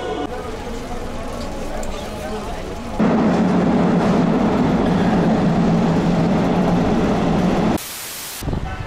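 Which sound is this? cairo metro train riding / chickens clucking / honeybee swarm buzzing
cairo metro train riding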